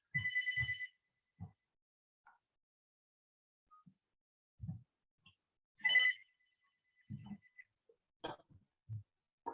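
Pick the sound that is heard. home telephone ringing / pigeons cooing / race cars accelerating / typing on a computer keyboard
home telephone ringing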